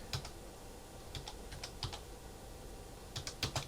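Quiet bursts of typing on a computer keyboard, a few quick clusters of key clicks separated by pauses, close and fairly soft over a low background hum.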